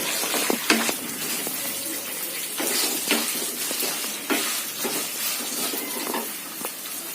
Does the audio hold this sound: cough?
no